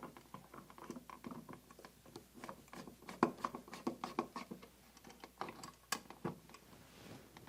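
A screwdriver drives the top and bottom screws of a wall light switch, giving a run of close, fairly loud scratchy ratcheting clicks and turning noises with no one talking.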